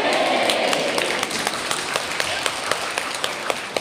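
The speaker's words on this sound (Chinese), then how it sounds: "你看你爸给你鼓掌啊！" An audience at an evening crosstalk comedy show at Deyunshe in Nanjing claps, a dense burst of applause that thins into scattered individual claps over a few seconds.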